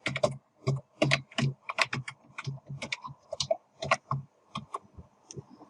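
Keys on a computer keyboard tap in quick irregular bursts of close clicks while Java code is typed, alone in a quiet room.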